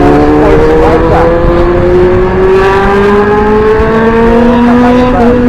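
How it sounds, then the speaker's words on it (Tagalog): A sports bike engine revving loudly nearby, a sustained rising whine with steady climbing pitch and a brief gear shift midway, dominating the scene. "Sports bike ah."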